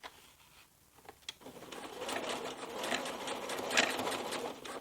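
A domestic sewing machine runs a steady, fast whirring stitch while top stitching baby dungarees, starting after a brief pause with a few clicks and then humming continuously and fairly close, rising slightly in intensity toward the end.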